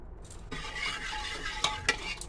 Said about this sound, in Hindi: तो गाइस सांभर को इस तरीके से मथानी से मच देंगे ताकि इसके जो पीसेस हैं वो मिक्स हो जाए।